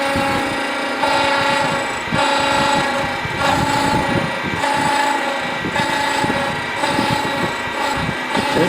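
A thread chaser cuts 16 tpi threads into a wooden hollow-form insert on a lathe, producing a close, continuous scraping whine with a rhythmic pulse roughly once per second as each pass repeats.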